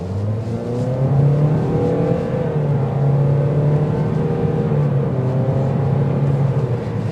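A 2024 Toyota Corolla in sport mode accelerates hard, its engine note rising and holding loud and close from inside the cabin, with a steady whir of road and tire noise beneath.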